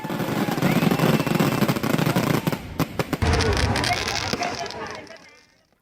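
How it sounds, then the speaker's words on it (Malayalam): Fireworks burst at a temple festival in a dense, loud barrage of rapid cracks and booms that rolls on continuously, with voices underneath, before fading out into silence at the end. "ഇന്നലെ രാത്രിയായിരുന്നു വെടിക്കെട്ട്."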